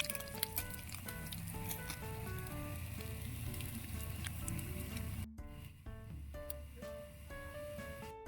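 Galunggong fish frying in a pan, a steady close sizzle and crackle of hot oil with dense spattering pops throughout, briefly dipping before continuing.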